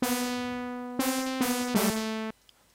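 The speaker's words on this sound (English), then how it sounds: "I've got this on a saw. I'll just put it on saw, and at the moment you can hear that because I've got an LFO on" A bright, buzzy sawtooth synth tone from the Sytrus synthesizer with an LFO, in a few sustained notes with small pitch steps, a wobbling modulation running through, then cutting to near silence.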